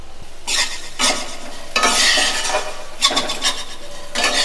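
Red lentils fried in a pan with ginger, garlic, coriander powder and cumin powder give several loud scraping stirs in rhythmic bursts over a low sizzle, with no talking.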